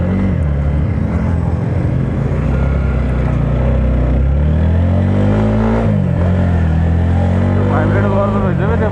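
An RTR motorcycle being ridden, its engine droning steadily with shifting pitch as it revs and eases, close and continuous beneath someone talking throughout.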